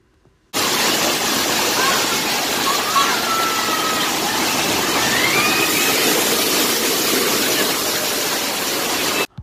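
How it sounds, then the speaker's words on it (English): A water park's huge tipping bucket at Great Wolf Lodge unloads a great blast of water, a loud, sustained roaring rush that starts abruptly and cuts off sharply at the end, with faint voices underneath. "Well, that was a great blast of water."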